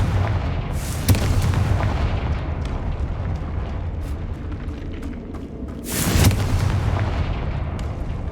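Fiery spell blasts in the Hogwarts Legacy video game, two heavy booming bursts over a rumbling game soundscape, the second louder and more prolonged.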